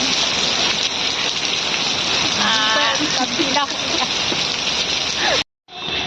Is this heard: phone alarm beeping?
no